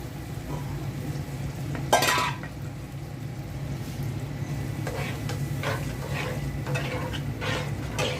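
Bitter gourd being sautéed and stirred in a pan with spices, a steady low sizzle running throughout, with a few utensil scrapes and clinks, including a sharper knock near the two-second mark.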